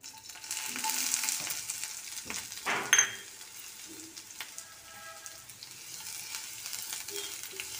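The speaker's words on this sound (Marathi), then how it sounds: "कांदा व्यवस्थित भाजून घेते आधी." Chopped onion and green chillies frying in hot oil in a pan, a steady close sizzle with a few louder bursts and stirring scrapes in the first seconds, no talking.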